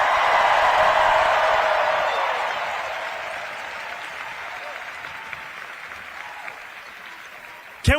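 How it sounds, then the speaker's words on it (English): A large crowd at an evening political rally in New York City applauds and cheers for the MC, a dense roar of clapping that is loudest at the start and slowly fades over several seconds. "Can we first hear a round of applause for our incredible MC,"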